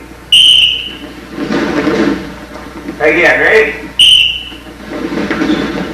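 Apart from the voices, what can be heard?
whistle blown during wrestling drill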